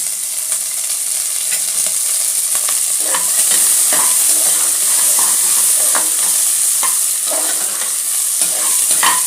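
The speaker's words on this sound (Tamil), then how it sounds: "பீன்ஸையும் கேரட்டையும் சேர்த்து முதல்ல வதக்கிடுவேன்" Beans and carrots sauté in a hot pan with oil and popped mustard seeds, giving a steady, loud sizzle throughout with scattered clicks and scrapes from stirring.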